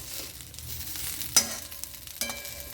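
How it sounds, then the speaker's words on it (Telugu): Mint leaves fry in ghee for a mint powder, a soft sizzle broken by a few sharp clinks and scrapes of a utensil against the pan. "దీన్ని మాత్రం నెయ్యితో వేయించుకోవాలన్నమాట."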